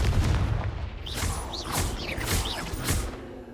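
A Confringo blasting spell explodes in Hogwarts Legacy with a loud, rumbling boom amid continuous combat noise, magical whooshes and whistling effects during a fight.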